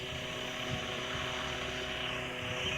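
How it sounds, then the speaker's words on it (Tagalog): A helicopter in the Roblox video game drones steadily with a low rotor hum and faint higher whine, constant and unbroken throughout, with no voices over it. "Helicopter pa din."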